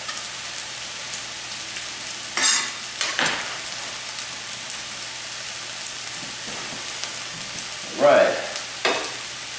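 Vegetables sweating in a pan ahead of the eggs for a frittata give off a low steady sizzle, broken by a couple of louder stirring scrapes, while someone speaks briefly.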